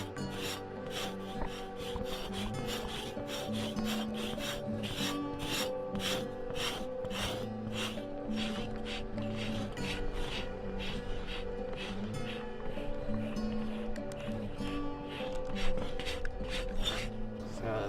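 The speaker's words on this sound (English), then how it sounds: "What we're doing is we're scraping the hair off so we can prepare it for like a drum." Hair is scraped off a buffalo hide stretched on a rack, heard as repeated rhythmic rasping strokes, close and steady throughout, with no talking.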